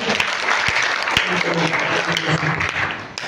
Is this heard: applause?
yes